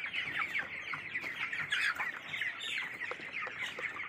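A poultry farm housing about 1,500 young chickens, around 22 days old, fills the air with a continuous chorus of clucking and chirping calls at moderate distance, with no talk.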